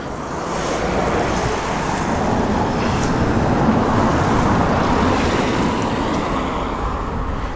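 Steady, dense roar of passing road traffic beside a roadside meet of old lorries such as Leyland, Bedford, ERF and Foden, a continuous close wash of noise with no single vehicle standing out.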